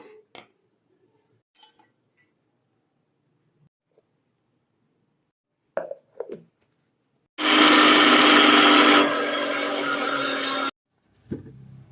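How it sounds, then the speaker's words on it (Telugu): A mixer grinder pulverising roasted peanuts in a jar, a loud whirring grind lasting about three seconds after a few light knocks and handling sounds, then stopping abruptly. "ఇప్పుడు మిక్సీ జార్లో వేసి మిక్సీ పట్టుకుందాం."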